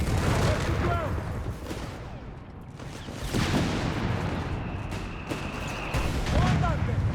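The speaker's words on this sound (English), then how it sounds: "There we go. White phosphorus. The Willy Pete." Artillery barrage of white phosphorus shells in the World War II strategy game Company of Heroes 3, with booming impacts and rumbling bursts layered over continuous battle noise, under a commentator's steady talk.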